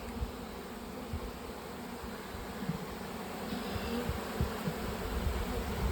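A large honey bee swarm hums inside a hive box after building fresh comb, a steady, dense buzzing of many insects that stays close and even and swells slightly toward the end.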